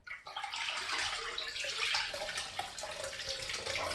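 Running water rinses a moldy Rainbow HEPA exhaust filter, a continuous splashing, hissing flow from a tap that shifts slightly as the filter moves under the stream, close and steady with no talking.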